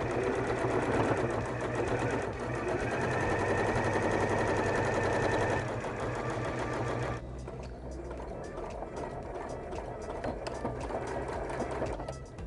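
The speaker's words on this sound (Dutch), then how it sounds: "vervolgens leg je je lapje weer terug onder de naaimachine wanneer je de draad hebt afgeknipt. En stik je hem door op 2 mm." A sewing machine stitches a seam in jeans fabric with a loud, continuous rapid rattle up close. The tone shifts slightly partway through as the stitching carries on without pause.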